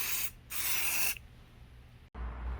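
Aerosol can spraying a coat of Plasti Dip onto vehicle trim: two close, loud hissing bursts, a short one then a longer one, followed by quiet handling and a soft thump.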